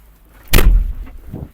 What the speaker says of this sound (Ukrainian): Закриваємо двері.